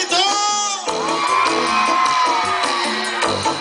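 Loud carnival crowd in Huatzinco shouting and whooping together, a sustained dense roar of many voices filling the space, with a brief dip before the yelling swells again.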